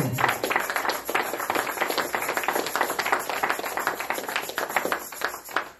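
A church congregation applauds in a fast, dense patter of many hands clapping close by, holding steady throughout before tapering at the end.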